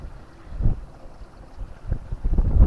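Strong wind before rain buffets the microphone in low, rumbling gusts that swell and fade, growing heavier toward the end.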